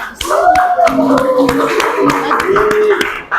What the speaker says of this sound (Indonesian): Untuk itu kita berikan tepuk tangan dulu kepada mereka.